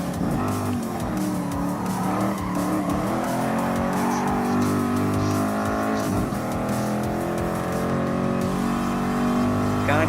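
A 330 P4 race car in Gran Turismo Sport roars steadily at high revs, its engine tone rising and shifting with tire squeal mixed in, loud and continuous throughout.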